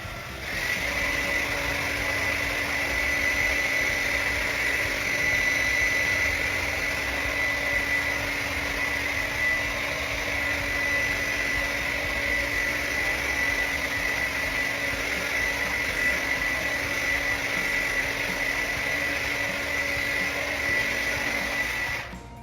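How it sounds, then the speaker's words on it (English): A hairdryer whirs at a steady, even pitch, running continuously up close with no talking. "And I do have a hairdryer back here."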